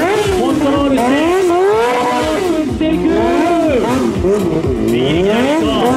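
A stunt motorcycle engine at an extreme stunt show in a school yard, revving hard and continuously, its pitch swooping up and down under throttle control, with an announcer talking loudly over it.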